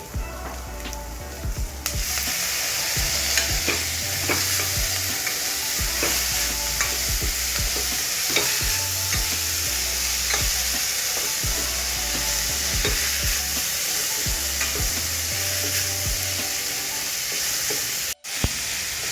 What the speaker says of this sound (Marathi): कांदे पण एक दोन मिनिटं परतून घ्यावे